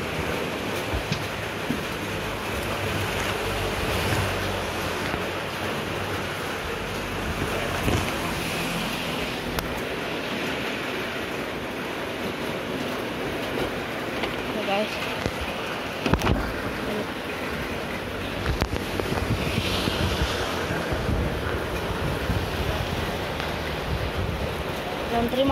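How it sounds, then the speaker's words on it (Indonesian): Rain falling outdoors near a hole in the ground, a steady broadband wash that stays at an even, fairly loud level throughout, with a brief louder patch midway. "ini hujan."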